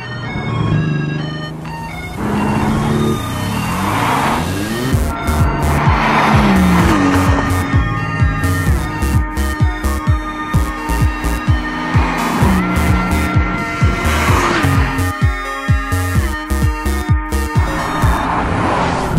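A Toyota Supra with a 4-speed automatic gearbox, in a racing livery, drives hard with a loud, sustained engine roar, shifting pitch as it builds speed, with occasional tire squeal and no voices.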